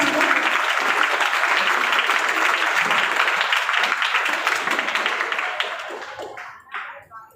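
A school event audience gives loud, sustained applause for the teachers, a dense wash of clapping that fades toward the end, with voices audible as it dies down.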